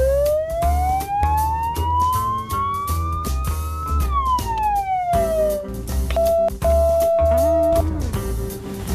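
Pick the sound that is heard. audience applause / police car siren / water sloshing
police car siren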